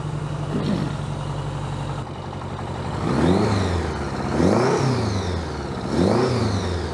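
A 1982 Honda GL1100 Goldwing motorcycle with freshly finished carburetors and a smoky exhaust idles close by, then revs sharply three times, each rise and fall clearly spaced over its steady running rumble.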